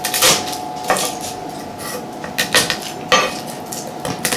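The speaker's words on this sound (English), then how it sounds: "Just going to take my knife and smash them." A knife smashes garlic cloves on a cutting board, giving a few sharp, close thuds and knocks at uneven intervals over faint kitchen background noise.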